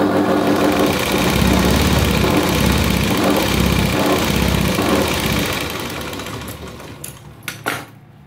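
A sewing machine runs continuously and loud up close, stitching a princess-cut blouse with a dense mechanical whir, then slows and stops, leaving a few sharp clicks at the end.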